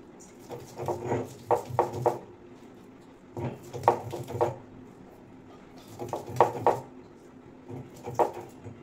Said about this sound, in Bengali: তো বন্ধুরা শিলনোড়া নিয়ে নিয়েছি, এবার শাকটা বেটে নেব।